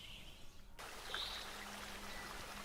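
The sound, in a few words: rushing river water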